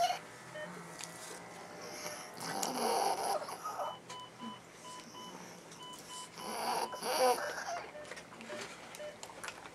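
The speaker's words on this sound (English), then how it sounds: "a little snore there" A child sedated for dental treatment snores softly, with a few faint, slow breathy snores that rise and fade over quiet clinic background beeps.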